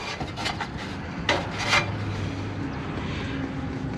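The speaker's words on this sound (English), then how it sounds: "See if I can remove some of this scale with a file." A file scraping heavy rust scale off an old exhaust pipe, a few short rasping strokes over a steady background hum, close and moderately loud.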